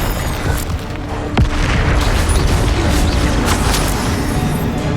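Booming spell blasts from Confringo and Bombada casts in Hogwarts Legacy, a dense, continuous roar of explosive bursts with a sharp crack near the start, loud and sustained with no pauses.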